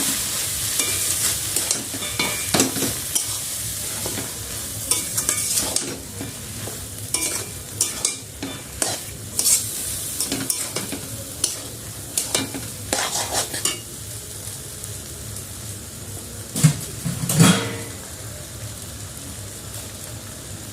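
A spoon stirs and scrapes egg tarka, a dhaba-style dal with egg, in a sizzling pan at home. Irregular clinks and scrapes sound over a steady frying hiss, with a couple of sharper knocks near the end.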